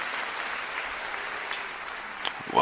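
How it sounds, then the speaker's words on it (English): Steady, fairly faint clapping from a small group, rising briefly near the end. "Round of applause for Bobby Smurder."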